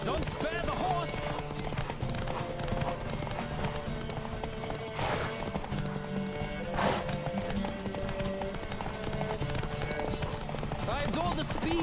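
Continuous hoofbeats of a galloping horse in the video game The Witcher 3 on PS5, under a busy background with music and occasional voices, steady and fairly loud throughout.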